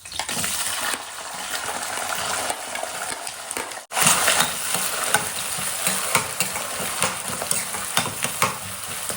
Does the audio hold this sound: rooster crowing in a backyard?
no